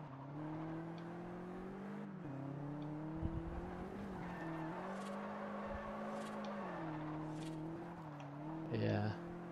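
Car engine droning as tires squeal through a long drift in the video game Forza Horizon, with the engine pitch rising and falling and a short burst of tire noise near the end.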